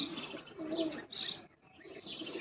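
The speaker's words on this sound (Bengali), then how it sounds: "এটা হচ্ছে নীল দুম্বার একটা নর কবুতর" A male Blue Dumba pigeon coos close by in soft, throaty, rolling phrases with brief gaps, fairly quiet and without any voices.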